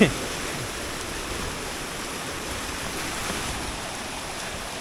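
A strong forest stream in flash-flood season at Doi Inthanon rushes steadily in a loud, unbroken roar, close by, with no pauses.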